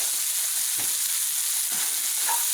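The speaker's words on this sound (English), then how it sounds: "So I got a little olive oil, brown the mushrooms and garlic." Mushrooms and garlic browning in olive oil and butter in a pan, a steady close bright sizzle with a few soft stirring bumps.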